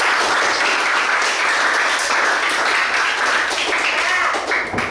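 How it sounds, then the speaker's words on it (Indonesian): A classroom of children applauds together, a loud, dense wash of clapping filling the room from start to finish with no pauses. "Tepuk tangan dulu."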